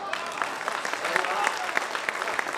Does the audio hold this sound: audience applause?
yes